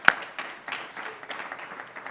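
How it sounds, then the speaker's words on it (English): Audience at an education coalition event clapping, with a sharp close clap at the start followed by a light scatter of applause that stays fairly sparse. "Let's give him a round of applause."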